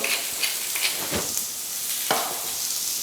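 Lobster shells sizzle in a hot pan with peppercorn and salt seasoning, a steady frying hiss punctuated by a few brief stirring scrapes, close and moderately loud.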